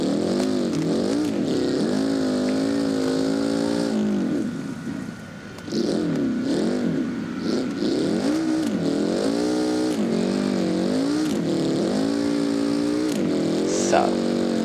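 Car engine driving at night in the desert in the BeamNG.drive game, a steady droning hum with rising and falling revs throughout, a brief dip midway, with a person talking over it.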